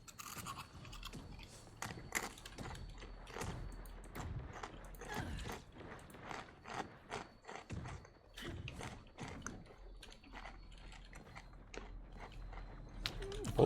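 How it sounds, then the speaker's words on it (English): Crunchy bites of basic nacho cheese Doritos chips, close to the mic, in quick, irregular bursts of crackling chewing over a steady low hum of game background sound. "I'm eating chips, so if you hear me getting my crunch on"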